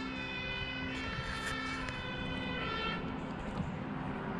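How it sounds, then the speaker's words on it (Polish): A fire engine siren wails steadily in the distance, its tones rising and falling over a constant rumble of traffic, heard in Poland. "Straż pożarna."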